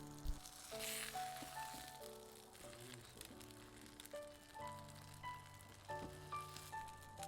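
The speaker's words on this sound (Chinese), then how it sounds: "接着再烙上3分钟。" Soft sizzling of sauerkraut pork pies pan-frying in oil over medium heat in an electric griddle, a faint steady crackle under low background music tones.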